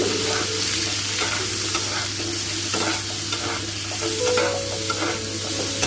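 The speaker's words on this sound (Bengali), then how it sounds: "কুমড়োটাকে ভালোভাবে ভাজা ভাজা করে নেব" Steady frying of pumpkin pieces with salt and turmeric in a wok, a continuous sizzle with occasional scraping and stirring clicks, close and fairly loud, no voices.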